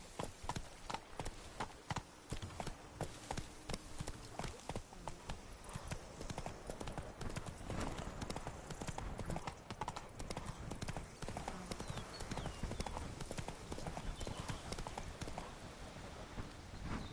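Hooves of a horse named in The Witcher 3: Blood and Wine clip-clop at a fast gallop, a dense, continuous rhythmic beat running throughout at moderate level with game ambience behind.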